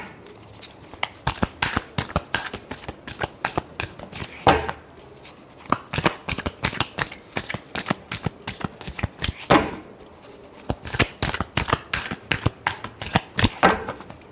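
Tarot cards are shuffled by hand in repeated quick riffling bursts, crisp papery flutters and slaps close to the listener, with brief pauses between rounds and no talking.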